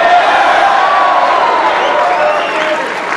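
An excited crowd cheers loudly and steadily, with whoops and applause, at Donald Trump's 2016 election victory speech in New York; the dense roar holds at a constant level throughout.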